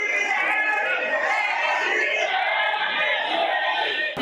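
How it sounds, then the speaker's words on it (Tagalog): A large crowd of political supporters chants and shouts in unison, a dense, loud roar of many voices throughout the short stretch. "Guards even had to try and contain the crowd,"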